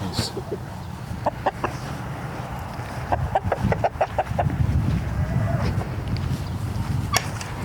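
A rooster clucks in short bursts, several quick low calls spread across the clip over a rumbling background, with brief sharper squawks near the end.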